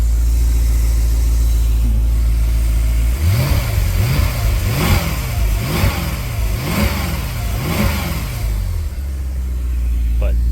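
A Mercedes CLK63 AMG convertible's M156 6.3-litre V8, which has a misfire, idles loudly, then gets about five sharp blips of the throttle in a steady rhythm before it settles back to idle. The engine is close and no one speaks.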